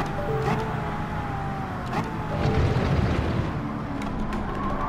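In Gran Turismo 7, a racing car accelerates hard with a continuous engine roar and rising pitch, while other cars and track sounds mix in behind it.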